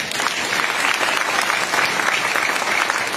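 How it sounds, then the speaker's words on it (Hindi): Audience at an old-pension political rally breaking into loud, dense applause, a steady crowd of clapping hands filling the space without pause. "अगर बात सही रहा करे तो तालियां जोर से बजाया करिए।"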